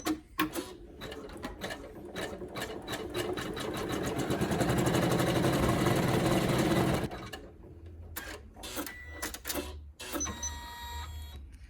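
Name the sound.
embroidery machine sewing tack-down stitch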